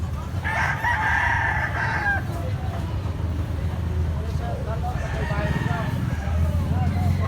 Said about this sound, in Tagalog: Guwapo gining manok si Buyaks.